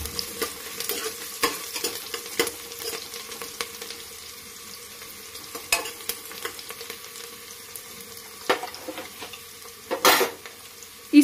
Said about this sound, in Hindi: फिर इसमें ऐड करूंगी फ्रेंड्स प्याज और हरे मिर्च को, तो फ्रेंड्स इसको हम चला देते हैं।